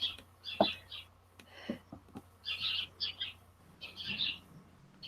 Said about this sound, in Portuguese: Relaxa esse canto dos passarinhos, ô Jonathan.